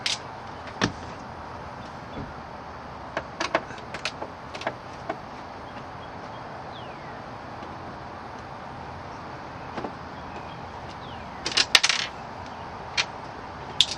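Small metal screws removed from the dashboard of a 1966 Chevrolet Impala drop into a metal tray, giving a few sharp, sparse clinks and rattles. The background is quiet, and a cluster of clatters comes near the end.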